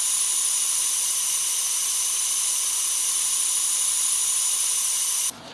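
Compressed air hisses steadily into the intake hose of a Ford Fiesta ST turbo setup during a pressure leak test, a loud continuous high-pitched rush that cuts off abruptly at the end.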